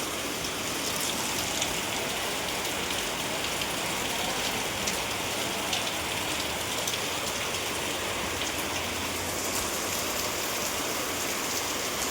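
Steady rain pours down across the full length, a dense, even hiss of drops drumming on surfaces with no pauses and no voices.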